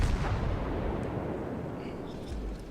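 In World of Warships, the cruiser Nurnberg fires a salvo of armor-piercing shells, producing a loud, deep, booming blast that rolls and decays across the whole moment.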